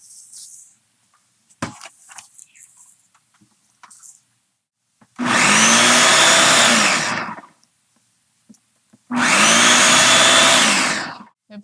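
A mixer grinder whirs through strawberries for homemade jam in two loud, steady bursts of about two seconds each, separated by quiet pauses with faint clicks and handling noises.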